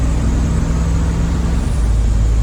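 A car engine with a rebuilt carburetor under acceleration, a loud, steady low drone from close by that deepens and swells toward the end.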